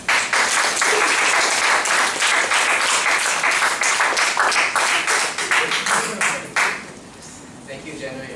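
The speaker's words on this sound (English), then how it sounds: "Let's give a round of applause." An audience at a Toastmasters club evening claps loudly and steadily for several seconds, then the applause thins out and fades as a voice begins under the last scattered claps.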